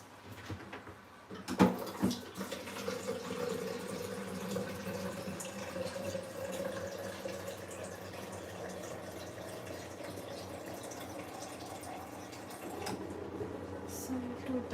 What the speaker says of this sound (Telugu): సో 2 times వాష్ చేసేసుకొని మంచినీళ్ళు పోసేసుకున్నా